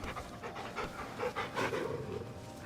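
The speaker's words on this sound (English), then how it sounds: "And of course, we have our pooch, Thorgo" A dog pants steadily in Final Fantasy XVI, quick rhythmic breaths close up and fairly soft over a quiet game background.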